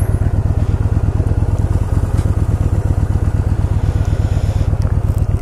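A Yamaha V-twin motorcycle engine runs close by with a steady, rhythmic low thumping pulse, even and unbroken throughout.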